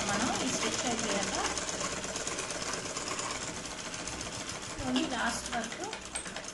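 A sewing machine stitches a blouse with a half-foot seam allowance, making a dense, continuous mechanical rattle that runs throughout at moderate volume with slight shifts in pace.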